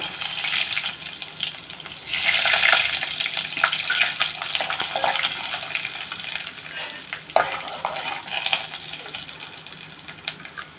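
Tempering spices dropped into hot oil for a tomato, coconut and broad bean chutney, bursting into a loud close sizzle that swells early, then crackles and spatters steadily, with a sharp clatter near the end and no talking.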